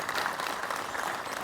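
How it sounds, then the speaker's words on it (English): A short burst of steady applause from a crowd at a police press event, a dense wash of clapping with no other sound standing out. "a round of applause"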